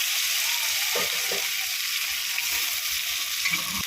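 Fried vegetables dropped into a hot pan of ginger and radhuni paste for shukto, a loud continuous sizzle with a few soft thuds and scrapes as pieces land.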